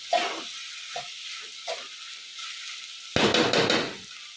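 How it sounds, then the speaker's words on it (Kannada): Sabudana sizzles in hot oil in a pan during cooking for sabudana khichdi, soft frying hiss with a few spoon scrapes and clinks, then a louder burst of sizzling near the end. "ಹಾಗಾಗಿ ಈ ಎಣ್ಣೆಲೇ ಫ್ರೈ ಮಾಡೋದ್ರಲ್ಲೇ ಬೆಂದೋಗುತ್ತೆ"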